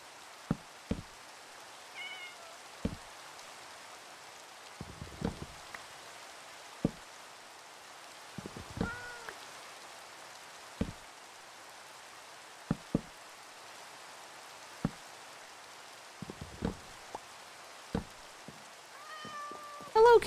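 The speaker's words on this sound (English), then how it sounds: "There's a kitty cat roaming around." Cat meows from the Minecraft video game, a few short mews scattered among sharp clicks and taps from block placing, moderately loud, with no talk.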